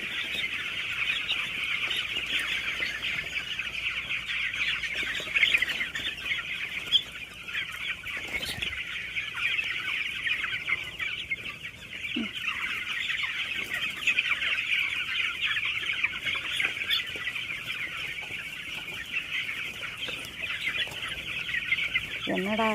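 A dense chorus of chickens clucks continuously on a poultry farm, many birds chattering at once with an occasional louder squawk, steady and close throughout.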